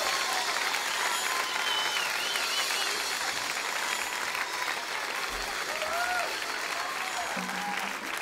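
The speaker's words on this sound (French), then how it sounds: "Allez, il faut applaudir très bon, très fort" A live concert crowd at a show gives a sustained round of applause, broad and even throughout. Scattered whistles and cheers poke through the clapping.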